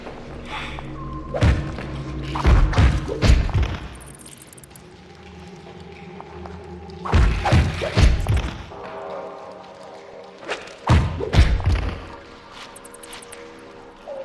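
A character slashes with claws in the dark fantasy game Blood Omen 2, producing clusters of heavy, close thuds in three separate flurries with pauses between, no speech.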